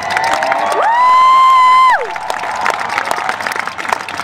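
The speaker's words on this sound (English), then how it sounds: "They deserve the applause." An audience applauds and cheers loudly, with whoops and shouts in a dense crowd roar; a sustained tonal horn-like note rises and holds briefly in the first half over the noise.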